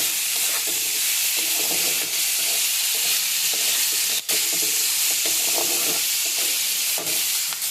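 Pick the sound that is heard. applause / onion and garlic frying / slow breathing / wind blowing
onion and garlic frying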